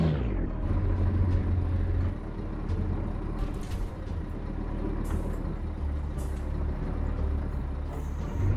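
A heavy truck's diesel engine in Euro Truck Simulator 2 rumbles loudly and steadily up close, then drops into a lower idling drone as it shuts down, with brief hissing air-brake bursts and no talk.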